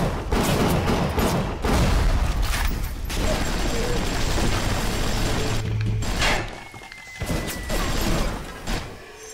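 Bursts of gunfire from an allied fighter in the video game Bioshock, with rapid shots clustered over the first few seconds and then sparser, mixed with mechanical game noises at close, loud volume.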